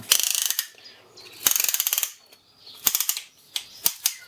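A piston ring compressor is tightened with a ratcheting tool on a piston during a Briggs and Stratton 7hp engine rebuild. Quick bursts of close, crisp ratchet clicks come in short runs, with a few single sharp clicks between them.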